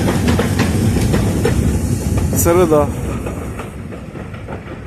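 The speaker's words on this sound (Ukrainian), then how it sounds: "Ось трамвайчик мій їде, мій." A tram rolling along a street in Kharkiv's Saltivka district in winter, its wheels rumbling and clacking loudly and close, with a brief screech partway through, while someone says a word over it.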